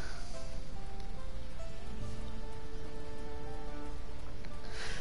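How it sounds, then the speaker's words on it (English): Steady rain in the Final Fantasy XIV game falls as a soft, continuous hiss of drops, layered under a gentle sustained musical tone throughout. "No, it's just the rain."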